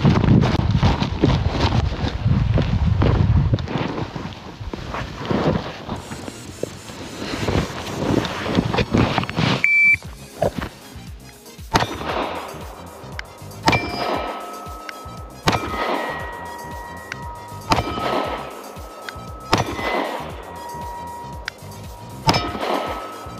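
A rapid string of six sharp gunshots rings out from seven metres, followed by a series of spaced metallic clangs with bright ringing tails as reactive steel targets are struck.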